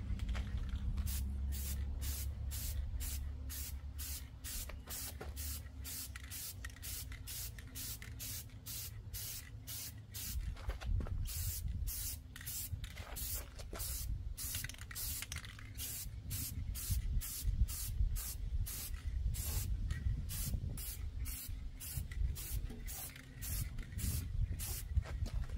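Spray paint rattle can laying a coat on a truck's rocker panel, a rhythm of short close hissing bursts repeating over a low hum, with no talk.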